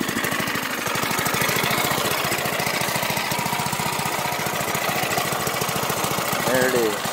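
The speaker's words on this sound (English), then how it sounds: "Running idle pretty good." A newly built ride's engine idles up close with a steady, loud, rapid chugging pulse that holds evenly throughout.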